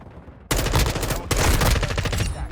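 M4A1 rifle fire in Modern Warfare 2 multiplayer: sudden close, loud bursts of rapid automatic shots after a quiet start, with a brief pause then another sustained burst.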